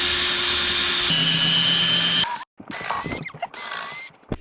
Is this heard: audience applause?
no